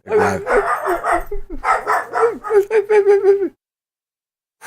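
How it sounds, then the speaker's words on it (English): Dogs bark repeatedly in quick bursts close by, a rough volley of barks lasting a few seconds before stopping abruptly. "I don't know what in the hell my dogs are barking at now."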